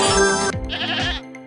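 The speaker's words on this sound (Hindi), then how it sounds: "अरे, यह तो बकरी के चिल्लाने की आवाज है" A goat bleats loudly and close by, one long wavering cry followed by a shorter second bleat.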